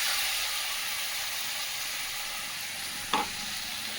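Spice paste tipped into hot oil for a Bengali tel koi fish curry, a steady loud sizzle and fry hissing throughout, with a brief sharp clink near the end and no voices.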